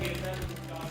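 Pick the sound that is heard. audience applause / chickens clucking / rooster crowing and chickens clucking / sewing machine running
sewing machine running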